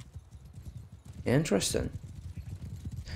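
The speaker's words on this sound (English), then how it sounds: "Oh, they all are on horses." Horses gallop in Mount and Blade 2 Bannerlord, a soft, steady rhythmic clatter of hooves running under a brief spoken word.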